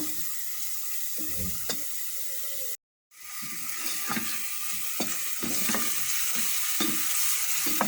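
Red pepper flakes sautéing in oil in a pan for a purslane dish, with a steady close sizzle and scattered stirring scrapes and clinks, briefly cut to silence near the middle.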